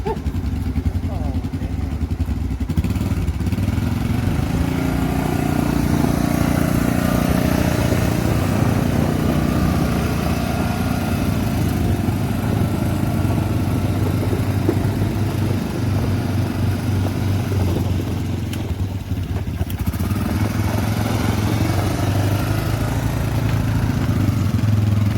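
A 1987 Honda Big Red ATC250ES three-wheeler engine running at a steady, loud idle close by, with people talking over it throughout.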